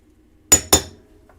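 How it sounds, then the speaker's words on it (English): Two sharp metallic strikes in quick succession, a hammer tapping a center punch against a metal disc to mark a drilling spot, each ringing briefly before fading into quiet. "we're going to go ahead and center punch that right there in the middle with your center punch"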